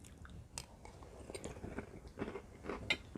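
Close-up crunchy chewing of homemade keto cinnamon toast cereal, with soft irregular bites and crunches over a few seconds, fairly quiet and with no talking.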